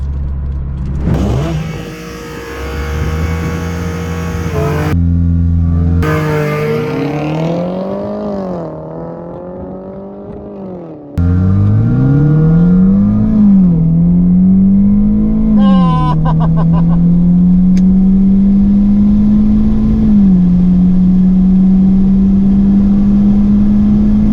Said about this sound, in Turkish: Arkadaşlar havaalanında da drag yarışları bu şekilde oluyor.